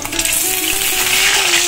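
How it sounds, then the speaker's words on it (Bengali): Peeled boiled duck eggs sizzle steadily in hot oil in a pan, a continuous close, bright frying hiss with no talking. "দেখো হাঁসের ডিম ছাড়িয়ে দেখো ভাজা করতে দিয়ে দিয়েছি আমি"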